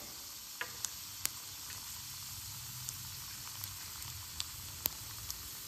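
Urad dal frying in hot oil for a drumstick leaf thuvayal, a soft steady sizzle with a few faint clicks and pops, fairly quiet and without any talking.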